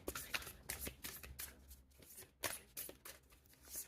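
Tarot cards being shuffled, soft riffling and flicking bursts coming in quick uneven clusters, close by and fairly quiet, with no talking.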